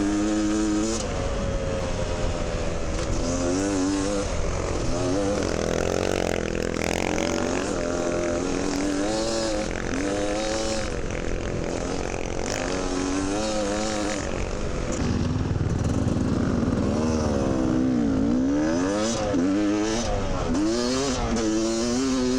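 Dirt bike engines at a charity trail ride for men's mental health, revving hard through a sandy section, a loud, continuous motor drone with rising and falling pitch sweeps as riders gun through the sand.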